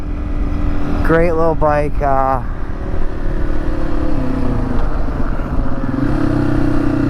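A 225cc six-speed motorcycle runs steadily beneath a brief burst of someone talking, its engine a continuous droning hum that wavers slightly in pitch as it rides along, close and fairly loud throughout.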